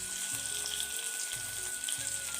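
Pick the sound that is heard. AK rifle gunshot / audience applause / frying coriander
frying coriander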